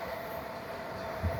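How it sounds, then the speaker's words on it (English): A Class 450 electric train passing through Raynes Park station on the up line toward London Waterloo gives a steady, moderately loud rumble with a faint high tone, and a brief heavier thump near the end. "So both trains there going through Raynes Park, heading towards Clapham Junction and London Waterloo."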